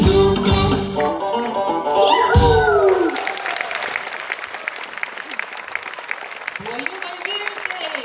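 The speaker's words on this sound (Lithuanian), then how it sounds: "Plojimai Viltei!" A family duet concert of Christmas songs: music closes out the opening seconds, then an audience breaks into steady, close applause that carries on to the end while a presenter speaks over it.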